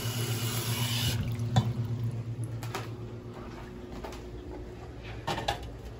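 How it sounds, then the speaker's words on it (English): Pot being filled with water at a kitchen sink: a steady splashing pour with occasional clinks and knocks, fairly close, over low background hum; no talking. "You want to fill up the pot a little more"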